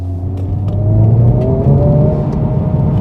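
A front-wheel-drive hot hatch, either a Honda Civic Type R FL5 or a VW Golf GTI, accelerates through a wet corner, its engine note rising steadily and loud from inside the cabin with a whirring drone.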